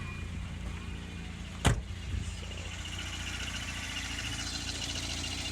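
A 1995 Volvo 940 sits at a steady idle, its low engine hum continuous and even throughout, with one short sharp click or thump partway through and nobody speaking.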